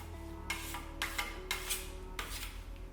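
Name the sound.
trowel spreading Roma stucco plaster finish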